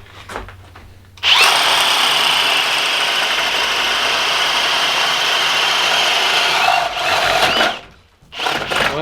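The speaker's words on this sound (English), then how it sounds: "it's got to be in drill mode to get the paddle bit through." A Kobalt 24V brushless drill in drill mode drives a paddle bit through a 4x4. The motor whines loudly and steadily under load for about seven seconds, then winds down, and a short burst follows.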